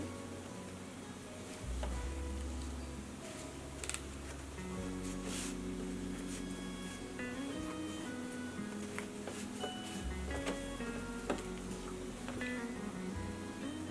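A sewing machine stitches over yarn laid along fabric to form gathers, giving a steady, quiet mechanical hum with rhythmic needle clatter that speeds up and slows through the run, with no talk.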